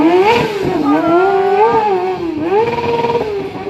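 A stunt motorcycle engine revs loudly and close by at a stunt show, pitch rising and falling in repeated bursts of throttle.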